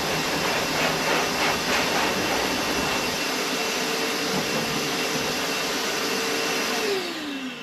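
A Titan vacuum cleaner runs in blowing mode, a loud, steady broadband roar with a faint whine that holds throughout and winds down slightly at the very end, with no talking.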